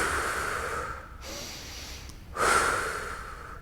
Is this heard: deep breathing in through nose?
yes